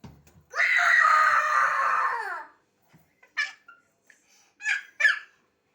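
A child screams loudly in one long sustained shout of about two seconds, followed by a few shorter shrieks and yelps amid quiet gaps.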